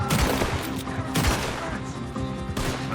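Gunfire in the video game Red Dead Redemption 2 during a shootout, a quick burst of several loud close shots with echoing tails over about three seconds.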